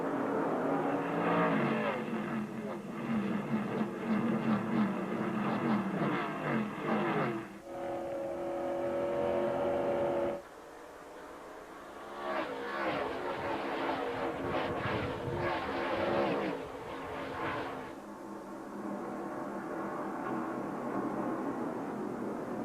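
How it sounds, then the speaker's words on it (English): Race cars roar off at the start of the 1999 DieHard 250 on the Milwaukee Mile oval, a loud, sustained engine din that surges and shifts as the field passes, with no talking. "As the field gets set to go racing, 250 laps, 250 miles around the Milwaukee Mile on July 4th."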